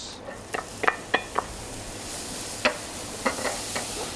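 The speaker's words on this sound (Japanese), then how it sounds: "今度は残ったバターで、まず玉ねぎを炒めます。" Onions sautéing gently over low heat in leftover butter in a pan, a soft quiet sizzle broken by several sharp clicks and taps of a utensil stirring against the pan.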